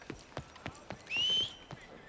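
Horse hooves clip-clopping in Red Dead Redemption 2, a steady walking rhythm of about seven soft hoofbeats with a short whinny-like tone in the middle, fairly faint.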